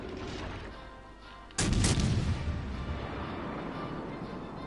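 A single heavy boom of 16-inch naval guns firing in a naval warfare video game, a sharp loud onset that rolls into a sustained rumble over steady background noise.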